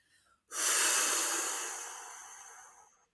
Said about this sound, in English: So breathing out through your mouth is really important.